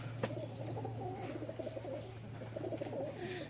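A newly brought-in pigeon gives soft, low cooing close by over a steady hum, a few short murmured calls in quick succession.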